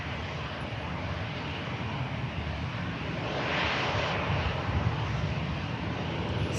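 After landing from Dublin, an Aer Lingus airliner rolls off the runway with a continuous low engine rumble and hiss that grows a bit louder toward the end, heard alone at moderate distance.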